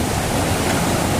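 Rushing river water flowing close by, a loud, dense, constant hiss with no breaks across the whole moment.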